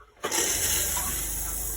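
RV toilet in a 2016 Thor A.C.E. 29.3 motorhome flushes during winterizing, a sudden rush of water that starts abruptly and then keeps running steadily, close and fairly loud.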